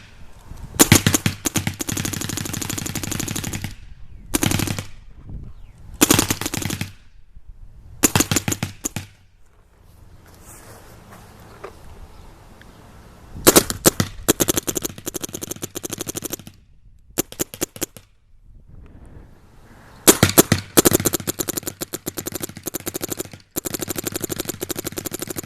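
Dangerous Power G3IQ-PB paintball marker firing loud, close bursts of rapid shots, with short pauses between strings and a quieter stretch in the middle.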